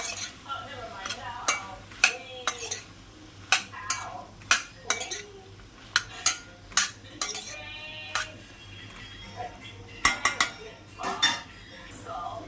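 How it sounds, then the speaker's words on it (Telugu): A spoon stirs brinjal pieces into a village-style prawn curry with fried tomatoes in a pan, making repeated close scrapes and metallic clinks in an irregular rhythm over a faint background hum. "ఇందులో మనం వంకాయ ముక్కలు వేసుకుందాం. మంచిగా మిక్స్ చేద్దాం."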